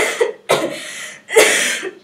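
Three harsh, raspy coughs in quick succession, close and loud, with a rough throaty quality.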